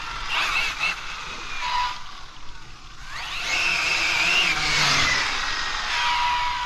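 An Arrma Infraction 6S RC car races past on a street with a high electric motor whine that rises and falls in pitch as it speeds up and passes, fairly loud and steady.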